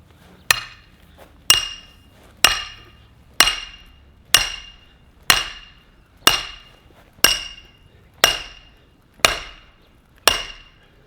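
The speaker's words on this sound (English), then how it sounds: "All right, so I'm gonna go ahead and hammer this down." Eleven evenly spaced, ringing metallic strikes, each decaying quickly, as a hammer drives a party tent stake into the ground.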